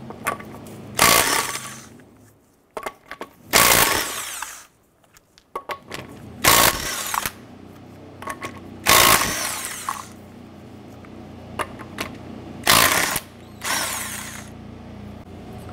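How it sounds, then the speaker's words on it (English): An impact power tool runs a 19mm socket to remove the wheel lug nuts on a 2006-2013 Chevrolet Impala, sounding in several loud bursts of a second or so each, separated by pauses and small clanks. "Use a 19mm socket. Let's remove the lug nuts."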